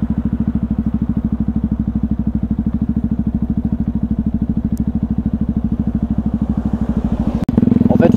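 A Yamaha WR125X motorcycle engine idles with a steady, rapid, loud thumping pulse, close by, and the revs rise briefly near the end.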